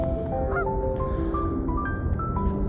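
Geese on a snowy New York lake honk steadily, many overlapping calls blending into a continuous chorus over a low background rumble.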